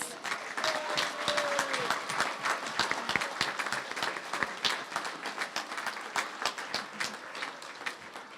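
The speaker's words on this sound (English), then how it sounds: "please join me in giving my staff a big round of applause" An audience at a library branch grand opening gives the staff a round of applause, steady clapping from many hands heard at a moderate distance, tapering gradually toward the end.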